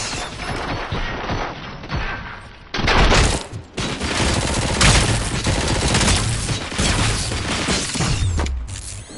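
Gunfire in the RoboCop: Rogue City video game: dense bursts of rapid shots and heavy booms that come in waves, with brief lulls, loud and close throughout.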